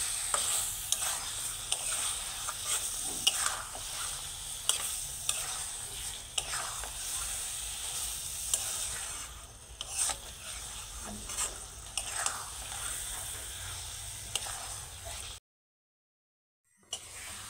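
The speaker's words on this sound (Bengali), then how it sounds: "এবার ভালো করে মিক্স করে নিচ্ছি।" A pointed gourd curry with chhana is stirred in a frying pan over a steady sizzle, with repeated scraping spoon strokes, until the sound cuts off briefly near the end.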